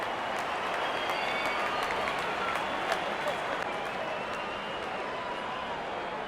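Steady, dense applause and crowd noise from a cricket stadium in a Pakistan versus India video game match, filling the whole stretch at an even level with a commentator talking over it.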